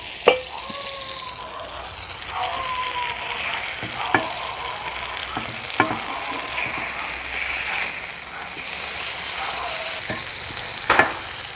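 Chicken cooks in a covered pan and is flipped over, a constant close sizzle and bubbling broken by a few sharp knocks and scrapes of a utensil and lid.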